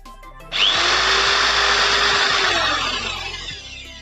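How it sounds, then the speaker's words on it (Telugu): An electric drill bores into wood, starting abruptly with a loud steady whine and grinding that holds for about two seconds before easing off as the motor winds down, with no talk. "వుడ్ మీదకి ఇది చాలా ఈజీగా డ్రిల్ చేసేసింది"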